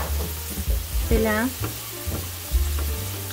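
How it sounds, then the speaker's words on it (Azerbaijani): Chopped onions fry in hot oil in a pan for mushroom cutlets, giving a steady close sizzle with stirring and scraping throughout, while a voice speaks briefly over it. "Soğanı qovurdum."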